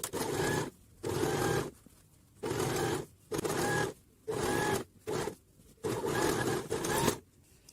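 A sewing machine stitches the seam on a quick, easy zippered pouch with a machine presser foot, running in repeated bursts of about a second each with short pauses between, close and steady.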